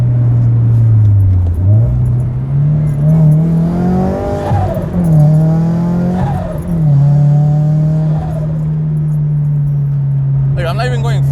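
A turbocharged Subaru BRZ with an HKS turbo kit drones loudly and steadily, with rising harmonic sweeps as it accelerates through gears, and voices talking over the engine noise.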